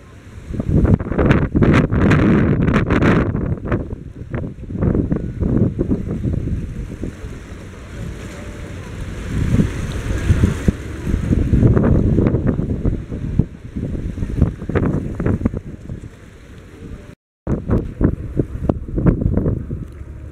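Strong gusts at the Dumangas ferry port batter the microphone with loud, rough wind roar in uneven surges over a low rumble of boats and water, with a brief dropout near the end.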